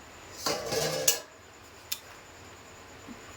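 A metal plate used as a lid is lifted off a pot of boiling potatoes and peas, giving a short scraping clatter followed by a single sharp clink, close, then near silence.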